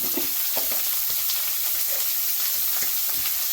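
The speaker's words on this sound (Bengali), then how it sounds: "এবার সম্পূর্ণগুলোকে একটু করে ভাজবো" Cauliflower and tomatoes for chilli gobi frying in a pan, a steady close sizzle with soft hiss and occasional scrapes and pops from stirring, no voices.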